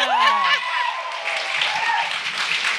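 An audience bursts into applause and cheers at a live show, a dense wash of clapping with whoops and voices rising over it.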